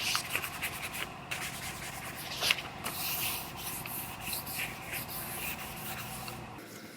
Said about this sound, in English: You put your sandpaper on a scuff pad, it sticks to it, and then you could get up in here